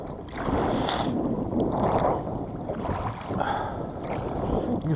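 A small boat is rowed home without a motor on open water, with rhythmic oar strokes and water splashes about once per second, accompanied by wind buffeting the microphone.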